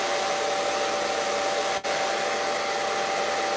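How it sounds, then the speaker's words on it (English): A blow dryer runs on its cool setting to set hair spray, blowing as a steady, loud, broadband rush with a brief dip partway through, and no voices. "I'm gonna use my blow dryer on a cool setting"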